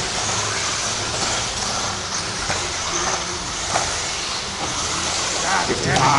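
17.5-class expert RC buggies in a club race at Norcal Hobbies race down the center straight, a steady high electric motor whine and tire hiss that rises near the end, with a race announcer talking over it.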